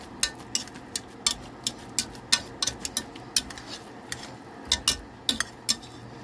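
Potatoes being mashed with a masher in a pot during a home meatloaf dinner cook, heard as a steady series of sharp metallic clinks and knocks, close and fairly loud, with soft squishy texture between strikes.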